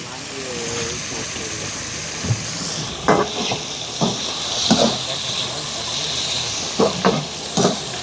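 Dried fish frying in a pan on a boat out at sea, a soft steady sizzle and hiss running throughout, with occasional clatters and stirring knocks as people talk nearby.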